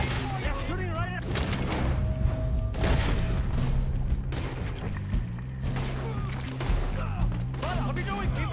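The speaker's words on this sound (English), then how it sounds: "They're shooting right at..." Gunfire in Red Dead Redemption 2 crackles in repeated shots and bursts through a dense, busy game mix of music and effects, with characters talking over much of it.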